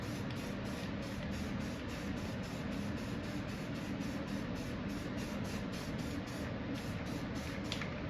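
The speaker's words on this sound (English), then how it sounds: "we're just gonna put a couple light coats of Krylon 5X satin or matte black finish on here" Krylon 5X satin or matte black spray paint going on in light coats over an arcade cabinet speaker part, a steady, close hiss that runs unbroken throughout with faint pulsing, no voices.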